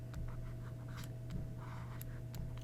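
A marker or chalk writes on a board, soft scratchy strokes in short irregular bursts over a steady low hum.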